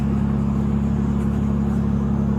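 A car's engine idling, a loud, steady low hum and drone with an even, unbroken rumble and no other sounds over it.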